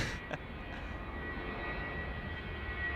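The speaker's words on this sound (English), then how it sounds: "There we are. Jetstar A321. There it goes. Off it goes. And we got liftoff." A Jetstar A321 airliner taking off at Adelaide Airport makes a continuous low engine rumble at moderate distance, steady and unbroken, with no voices.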